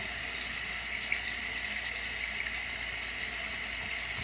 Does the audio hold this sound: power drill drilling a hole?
no